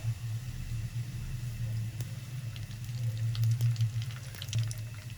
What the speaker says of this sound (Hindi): जब भी प्याज फ्राई करें, जब आपने गोल्डन फ्राई करने हैं प्याज, तो आप फुल तेल हीट में रखें